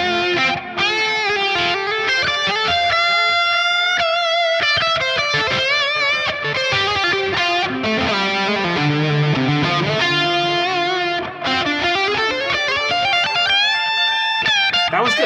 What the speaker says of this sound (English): A Marshall Plexi amplifier should have some pretty classic,